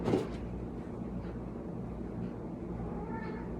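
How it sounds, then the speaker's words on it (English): Indoor cats; one meows faintly near the end over a steady low rumbling background, with no talk. "It's my cats running around."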